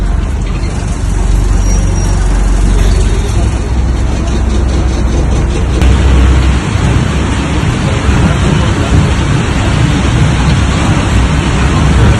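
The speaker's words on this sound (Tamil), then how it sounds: "ஓட்டை உடைசல் பேருந்தில் கசியும் மழைநீரில் பயணிகள் நனைந்தபடி செல்லும்" Heavy rain on an old, leaky bus in Tiruvannamalai district, Tamil Nadu, heard as a loud, dense, steady hiss from inside. A low engine rumble runs underneath the whole time.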